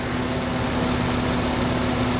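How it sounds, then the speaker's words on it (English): A 2013 Volkswagen Passat with a 2.5 liter California-emissions engine and automatic transmission idles steadily nearby, a constant low hum with a fixed tone and no talk over it. "As you can hear, we have an excellent running 2013 Volkswagen Passat."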